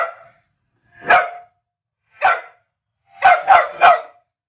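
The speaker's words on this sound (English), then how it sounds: "Why are you barking?" A puppy barks loudly nearby: a single yap, another after a pause, then a quick burst of three barks, with no talking over it.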